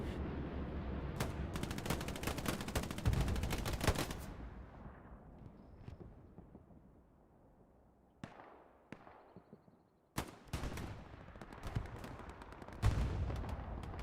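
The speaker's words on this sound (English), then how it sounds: "Artillery markers are coming in." Heavy artillery fire crashes down in a battlefield video game as rapid, dense volleys of loud blasts and crackling bursts, thinning to scattered distant booms before another close barrage erupts, with no voices over it.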